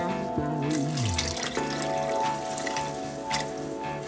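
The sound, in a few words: water running from a tap for pasta e fagioli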